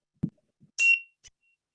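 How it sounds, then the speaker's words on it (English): A meditation bell gives a single bright, short ding, preceded by a soft knock and followed by a small tap, in an otherwise silent room. "Each time I ring the bell, go ahead and take a deep breath in and out."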